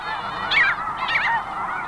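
Snow geese in an Arctic nesting colony honk in two close, loud bursts of nasal calls over a steady background chorus of more birds.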